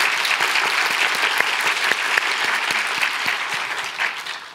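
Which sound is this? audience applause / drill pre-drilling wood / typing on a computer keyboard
audience applause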